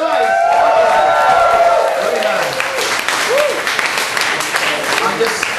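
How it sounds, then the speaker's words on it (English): Audience at a university poetry slam applauding and cheering for the poet Spoz, loud continuous clapping with whoops and voices shouting over it, fading slightly toward the end. "Another round of applause for Spoz"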